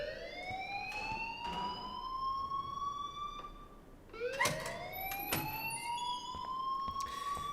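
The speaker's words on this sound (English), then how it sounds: "please turn off that alarm since that's your job" Alarm ringing in the video game Life is Strange: a loud electronic siren that rises and falls in repeated sweeping wails, with sharp clicks and knocks breaking in between.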